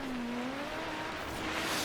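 A Mazda RX-8 rally build with a noisy rotary engine driving in Forza Horizon 3, a loud, buzzy, sustained engine tone sliding up in pitch as it accelerates over broadband road and tire noise.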